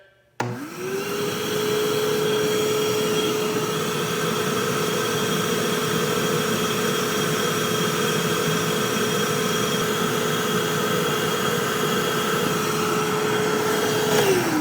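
A Dewalt Stealth Sonic wet/dry shop vac switches on and runs steadily, a close, even roar with a constant high whine that spins up at the start and winds down at the end, no talking.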